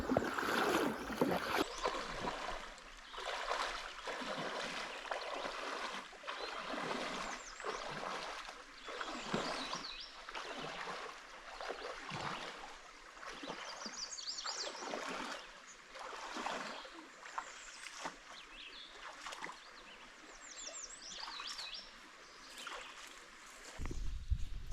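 River water flowing along a riverbank, a continuous trickling and gurgling with scattered splashes, at moderate distance and fairly quiet, with no one talking.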